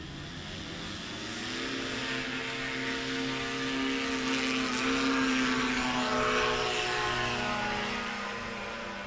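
A light aircraft engine at a STOL competition at an airpark drones steadily, swelling as the throttle rises and then easing slightly, heard from a moderate distance with no voices.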